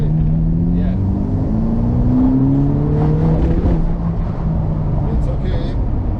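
Ferrari Portofino (2022, turbocharged) engine rising in pitch as it accelerates on a road drive near Maranello, a steady loud cabin drone with climbing tones, a voice talking over it.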